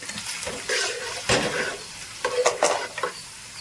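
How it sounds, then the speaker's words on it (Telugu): Onions frying in a pan for mutton biryani give a steady sizzle with stirring scrapes and a few clinks of utensil against metal, close and fairly loud, with no one talking. "ఆనియన్స్ మాత్రం మంచిగా వేగాలండి"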